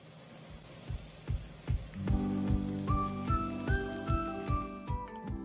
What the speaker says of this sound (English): sear each skewer for each side